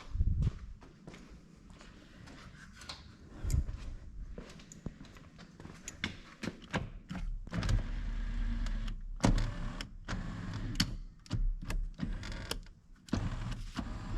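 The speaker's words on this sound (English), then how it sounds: "Huh, electric seat works." Electric seat motor in a 1987 Chevrolet Camaro IROC Z whirs in short bursts between clicks and thumps inside the car's cabin, close to the microphone and fairly loud, with no talking.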